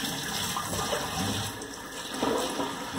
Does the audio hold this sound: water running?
yes